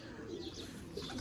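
Boxed pigeons, including a Ferozpuri pair, coo softly in a low, continuous murmur, with a few brief chirps rising over a dense background hum.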